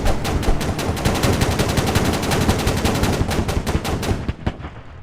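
Rapid automatic gunfire rattles in the military shooter game Squad, dense bursts of shots fired close and loud before they trail off at the end.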